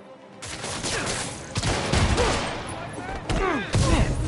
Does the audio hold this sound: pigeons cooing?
no